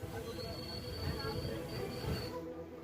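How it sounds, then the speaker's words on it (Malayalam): A train pulls into Thanjavur railway station, its wheels giving a steady rolling rumble with a thin high squeal running over it, fairly loud and close, before the noise drops off as it comes to a halt. "ട്രെയിൻ അടുത്ത സ്റ്റോപ്പായ തഞ്ചാവൂർ റെയിൽവേ സ്റ്റേഷനിലെത്തി."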